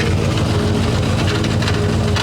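A Ford F100 pickup with a worn, grinding transmission drones loudly up close. The low engine rumble carries a steady rough grinding texture throughout.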